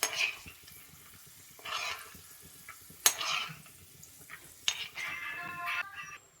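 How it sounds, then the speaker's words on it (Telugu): Almonds frying in ghee on a home stove while cooking chicken mandi, with soft sizzling under intermittent metal spoon stirring and a few sharp clinks of utensils against the pan, close and moderately quiet. "ఇవి బాదాంలు కూడా గోలినాయి కదా, తీసేసుకుంటున్నా నేను"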